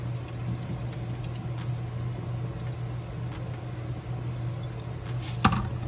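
Pigeon peas being rinsed under a running tap give a soft, steady stream of water with squishy handling sounds over a low hum, fairly quiet with a brief louder splash near the end.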